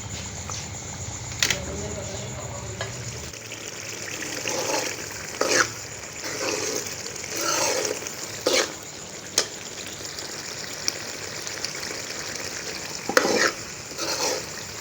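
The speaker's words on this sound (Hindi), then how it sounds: "मीडियम आंच पे कीमे को 15 से 20 मिनट के लिए ताकि कीमा जो है वो गल जाए।" Mutton mince frying over medium heat in a pan for aloo keema, with steady sizzling and a scraping spoon stirring throughout, plus occasional sharper clinks.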